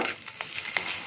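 Bora fritters frying in hot oil for a Bengali home lunch: steady close sizzling with brief bursts of crackle and light stirring scrapes, no voices.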